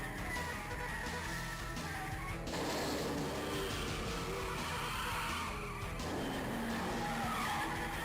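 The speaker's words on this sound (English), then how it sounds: "hitting those brakes" Car braking hard with tires skidding and squealing in a full motion video racing game, a loud continuous screech over engine roar lasting the whole stretch with no talk.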